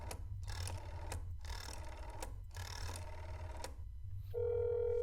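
A telephone rings in the horror video game That's not my neighbor, sounding as about four evenly spaced bursts of trilling bells, clear and close, before ending in a steady electronic tone.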